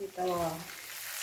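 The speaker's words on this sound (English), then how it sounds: "I'm just going to fry it like that." Goat meat frying in oil with onion and thyme, giving a steady close sizzle and crackle while a voice speaks briefly over it.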